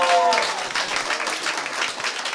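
A stand-up comedy audience breaks into steady, crowded applause, a dense wash of clapping that holds for a couple of seconds, with a short bit of voice at the start.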